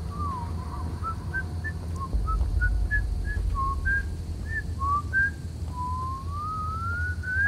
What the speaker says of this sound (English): I'm thinking he's not the one whistling